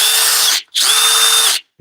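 A Harbor Freight Hercules brushless power tool spins up in two loud, close bursts with a high motor whine. A short silent gap separates the bursts, and each one stops abruptly.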